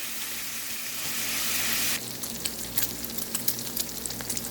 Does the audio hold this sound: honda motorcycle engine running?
no